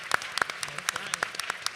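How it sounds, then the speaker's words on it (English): Scattered handclaps from an audience at a National Action Network convention, sharp distinct claps arriving in an irregular, uneven rhythm rather than a full dense roar. "Y'all give her another round of applause"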